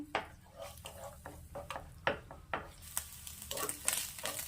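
Egg frying in a pan while being stirred and scraped, with quiet, irregular knocks and scrapes of the utensil against the pan over a faint sizzle.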